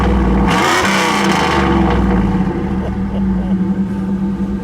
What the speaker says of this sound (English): Go ahead, Tom, give it a rev.